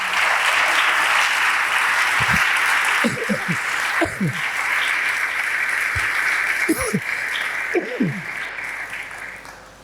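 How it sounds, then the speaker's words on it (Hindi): A congregation at a Hindi-Urdu church sermon gives loud, sustained applause, a steady wash of clapping with a few whoops and shouts rising over it. "आओ ऐसे खुदावंद के लिए जोरदार तालियां बजाएं।"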